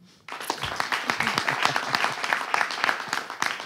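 Audience breaks into applause at a live talk show, a sudden burst of many hands clapping that starts sharply and continues evenly, moderately close.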